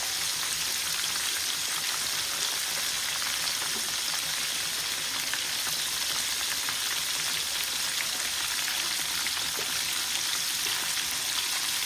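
Little onions fry in a pan with an unbroken, even sizzle and crackle that stays loud and close throughout, with no voices.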